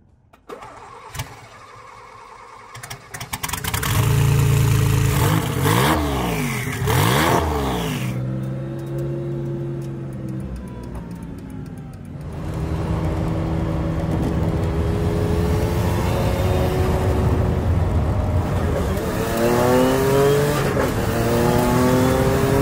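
A 1990s supercar engine cranks, fires and revs up sharply, then settles into a loud, close drone before accelerating away through rising gears on a ride, with no talking over it.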